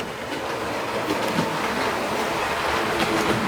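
A Bachmann 57XX model steam locomotive runs along a model railway track, giving a continuous close mechanical rumble and faint rail clatter with no voices.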